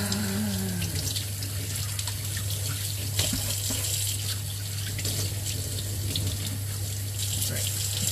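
Hot water runs from a sink tap in a steady, close hiss and splash that continues unchanged throughout, over a low background hum.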